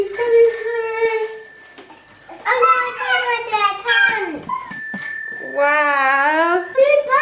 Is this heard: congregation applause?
no